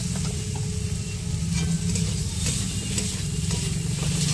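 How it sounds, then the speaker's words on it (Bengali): Spice masala and fried potatoes sauté in a pan for a fish curry (aar fish), with a steady close sizzle and frying hiss throughout and scraping stir strokes over it, no talk. "দিয়ে ভালো করে আরেকটু কষিয়ে নেব।"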